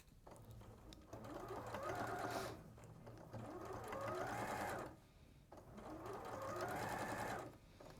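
A domestic sewing machine stitches a seam close to the fabric edge, running in three steady bursts of a few seconds each with short pauses between, close and fairly loud.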